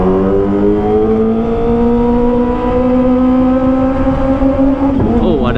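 A car drives by on the road, its engine note close and steady, rising slightly in pitch before shifting abruptly near the end as it passes.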